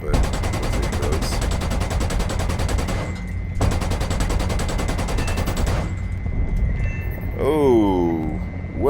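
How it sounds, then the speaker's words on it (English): AH-64A Apache firing its cannon in War Thunder, long rapid bursts of loud automatic fire with brief pauses between, followed by a rising whine near the end. "Oh, what a shot with the cannon."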